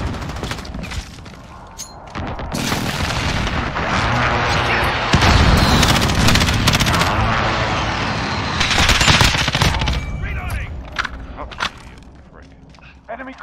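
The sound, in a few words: precision airstrike in Call of Duty Modern Warfare video game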